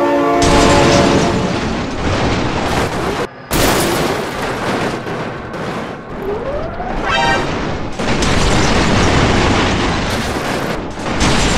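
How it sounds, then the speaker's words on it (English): A train thundering past in a video game about flatbed trailer trucks, cars and tractors meeting rails, a loud sustained roar with heavy rumbling bursts and a brief dropout, the rushing noise filling the scene throughout. "Oh my God, train!"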